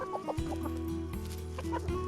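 Nine young pullets, about eighteen weeks old, cluck softly nearby in a farm setting, with short repeated clucks and murmurs over a low steady hum.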